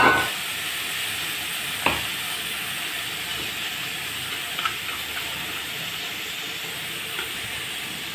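Eggplant and tomato fry in a pan, a constant loud hiss of oil under occasional knocks and scrapes of stirring, with no voices.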